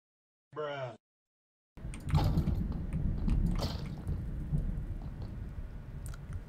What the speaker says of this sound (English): There seems to be an awful storm that just blew in.